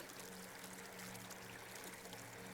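River water flows steadily at sunset, a soft, even rushing stream with a faint background hum, heard alone without talk.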